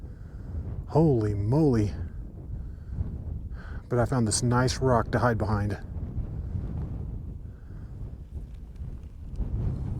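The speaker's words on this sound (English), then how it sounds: "that wind is whipping up here" Strong, cold wind rushes across a high mountain summit near Longs Peak in Rocky Mountain National Park, buffeting the microphone in a steady, close roar while someone talks in short bursts over it.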